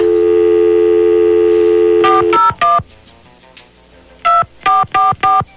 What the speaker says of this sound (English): let's dial her up